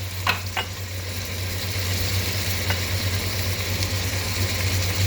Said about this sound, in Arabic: تقعدي تشوحي في الثوم شويه كده مع الكزبره